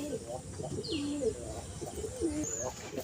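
Baby pigeons coo repeatedly in soft, rolling phrases close by, with a few higher chirps and a steady background hum.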